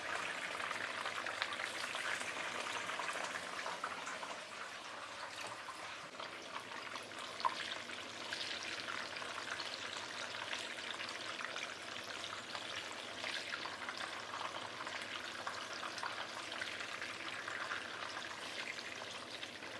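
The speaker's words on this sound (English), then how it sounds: "Also going to fry the brinjal." Brinjal deep frying in hot oil, a steady crackling sizzle that stays even and close for the whole stretch, with no talk over it.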